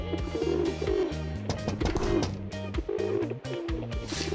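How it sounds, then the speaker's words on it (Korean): Pigeons coo outside in a soft, repeated rolling rhythm that carries on steadily all the way through, close and fairly loud with no talking over it. "밖에 비둘기 소리가 나는 거야."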